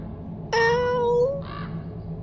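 A person imitates a cat during a tabletop role-playing game, giving a single drawn-out, nasal meow followed by a short, softer second call, close and clear over a quiet room.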